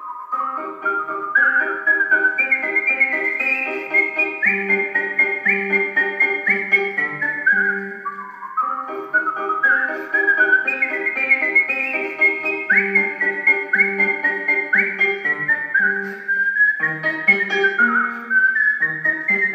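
A solo human whistler performs a melody at a concert in an auditorium, producing clear, sustained, sliding tones in continuous phrases with a brief pause midway, loud and close throughout.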